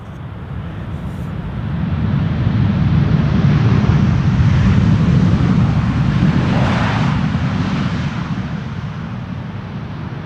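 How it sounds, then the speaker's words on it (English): A Delta Airbus A330-300 from Detroit lands in gusty crosswind at Amsterdam Schiphol, its engines swelling from a distant rumble to a loud, broad roar that peaks midway and slowly fades while still close. "another Delta A330-300 arriving from Detroit"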